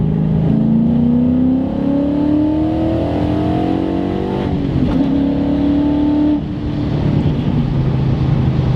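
A Coyote 5.0 V8 swapped Mustang Cobra with long tube headers revs hard and climbs through high RPM, a loud, steady rising roar with a short dip before pulling again.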